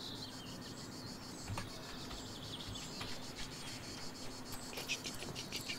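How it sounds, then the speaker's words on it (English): Crickets chirp steadily through an outdoor scene in the video game Scarf, a continuous high insect trill with a few brief bird-like calls and light footsteps mixed in. "That might just be a cricket or a locust."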